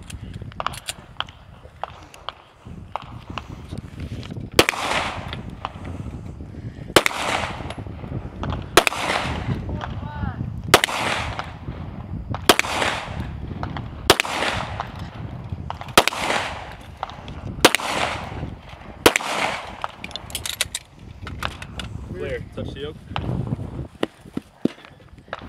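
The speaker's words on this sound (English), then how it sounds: "Jacob Horton clears his rifle, moving to the pistol." Pistol shots crack out at a practical shooting match stage at the North Carolina regionals men's elite division, roughly a dozen sharp loud reports spaced every second or two over ambient outdoor noise.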